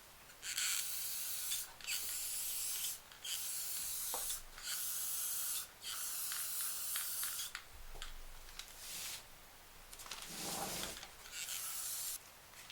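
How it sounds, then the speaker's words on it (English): An aerosol spray paint can, used to paint rocks, hisses in repeated bursts of a second or two each, separated by short pauses, close and fairly loud, with no talking. "I'm going to spray paint these."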